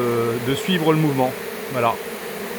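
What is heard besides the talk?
swarm of honey bees buzzing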